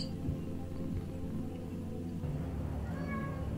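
Cat meowing inside the video game Lone Survivor, a short mew rising over steady game background music and ambience, with no talking.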